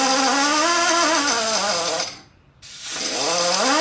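A cutoff wheel slicing through an AN fitting hose gives a loud, steady high-pitched whine that winds down briefly to near silence, then spins back up.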